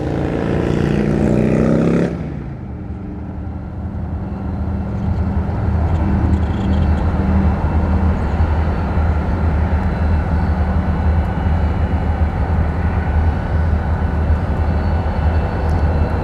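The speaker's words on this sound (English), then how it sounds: "Here comes the train backing up to another track." A low, steady mechanical rumble of a train backing slowly onto another track, continuous and fairly loud after a brief louder opening, with no voices.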